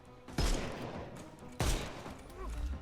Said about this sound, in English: It's only a few gunshots.